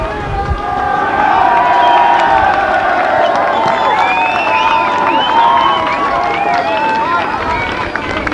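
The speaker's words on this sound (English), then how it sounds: "Putting the captain up on their shoulders for a cheer." A large crowd at a 1990 Eastern Districts Football League grand final between Heathmont and Kilsyth cheers and shouts in a sustained, loud roar of jubilation, with whoops and voices rising over the noise.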